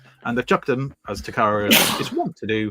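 A person sneezes sharply once, partway through someone talking in a casual podcast conversation about Transformers toys, the burst partly overlapping the speech.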